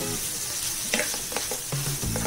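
Butter garlic prawns fry in a hot pan with a steady, loud sizzle and a few scraping stirs, no voices.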